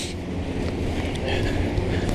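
Steady cool wind rushing and buffeting outdoors near the bridge to Russky Island, Vladivostok, a broad low roar with gusty noise, with faint voices underneath.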